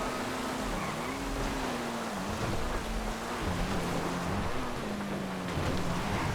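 Steady rain-like hiss in a racing video game fills the scene beneath a droning car engine whose pitch rises and falls, continuous and fairly loud with no voices.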